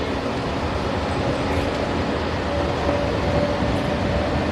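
Steady low rumble and rolling hum inside a moving Walt Disney World monorail, continuous and even throughout with a faint tonal whine, no voices.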